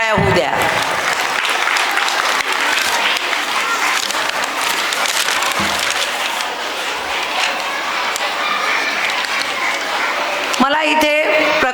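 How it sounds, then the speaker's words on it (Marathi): A crowd at a primary school cultural festival in Warora applauds loudly for the students, a dense, sustained roar of clapping that holds steady for several seconds before a voice begins speaking at the end. "या सर्व विद्यार्थ्यांच्या दातृत्वासाठी एकदा जोरदार टाळ्या होऊ द्या."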